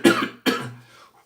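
Two close, loud coughs in quick succession, the second trailing off into a faint breath.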